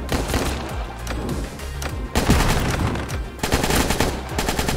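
Rapid gunfire from the roguelike bullet-hell video game Edge of Dead, loud, dense bursts of shots rattling almost continuously with brief lulls, layered over game music.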